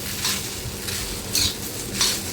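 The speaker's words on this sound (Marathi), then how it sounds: "मोठ्या गॅसवरतीच आपल्याला भेंडी भाजून घ्यायची आहे कारण आपल्याला ही करपू द्यायची नाही म्हणून सतत हलवत राहायचं आहे" Okra (bhendi) stir-fried on a high gas flame with constant stirring: a steady sizzle with three rhythmic bursts of spatula scraping against the pan, up close and without voices.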